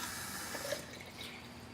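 Water is poured steadily into a herbal lemonade preparation, a soft continuous splashing and trickling that stays even and close for nearly two seconds, with no talking.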